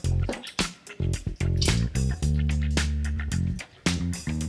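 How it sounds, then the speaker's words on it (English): Hands squish and break up old bread dough in a bowl of water while making matnakash. The result is a series of close, wet squelches and splashy drips in irregular bursts. "I'm just going to squish this with my hands to break up the old dough into the water"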